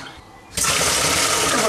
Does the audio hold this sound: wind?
no